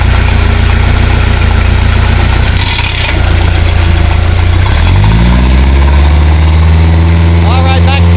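A Bayliner boat engine is shifted into gear and given some throttle, a loud, close, low rumbling drone that climbs in pitch near the end as the revs rise.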